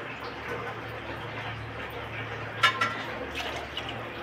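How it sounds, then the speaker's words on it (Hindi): Soft, steady trickle of water being poured into a cooking pot of vegetables, low continuous splashing with a brief louder splash near the end; no talking. "थोड़ा सा पानी हम और डाल देते हैं"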